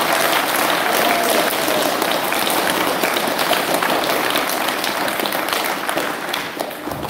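An audience at a senior speech finals event applauds for the speakers, a dense, sustained wash of clapping from many hands that stays loud throughout and eases slightly near the end.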